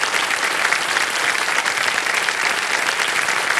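A studio audience on the KBC game show, Kaun Banega Crorepati season 16, gives steady, dense applause that fills the whole stretch at an even level, with no talk over it.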